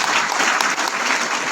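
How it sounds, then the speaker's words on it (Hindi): Dense, steady applause from a seminar audience in Madhya Pradesh fills the whole short stretch, loud and close, with many hands clapping at once and no pauses. "अपने लिए एक बार जोरदार ताली बजाना शानदार तरीके से।"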